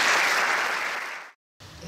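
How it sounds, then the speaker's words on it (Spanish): Audience applause at a tribute ceremony for a music teacher, a steady loud wash of clapping that gradually fades and cuts to silence, then room sound returns. "Por eso, mi gratitud, mi felicitación y mi aplauso, Rosa."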